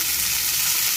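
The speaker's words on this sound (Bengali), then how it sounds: "এই যে মাছ ভাজা বসিয়ে দিয়েছি" Fish frying in a hot pan gives a steady, loud, close sizzle with no pauses, and no voices over it.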